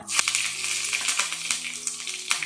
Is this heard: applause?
no